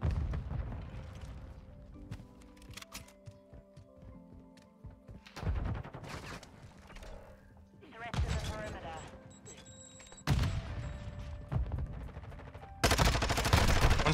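Gunfire from Call of Duty: Modern Warfare 2 during a ranked Hardpoint match on the Mercado map: loud bursts of rapid automatic shots and sharp single cracks, arriving in clusters with short lulls, mixed under game sounds and a player talking.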